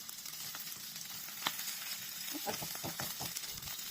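Shrimp sizzling in a frying pan with black garlic, a soft continuous hiss with occasional faint pops and stirring clicks, quiet and close, with no talking.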